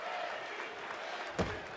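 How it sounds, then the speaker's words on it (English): Wrestling arena crowd at TNA Slammiversary roaring steadily after a superplex, a continuous loud cheer with one brief sharp burst near the end, commentary voices mixed in. "What a crowd on hand tonight for our 21st annual Slammiversary"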